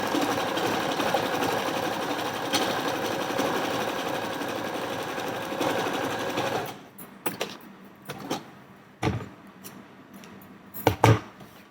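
A sewing machine stitches blouse sleeves in a steady, rapid whirring run for several seconds, then stops and restarts in short bursts with quiet clicks and pauses between.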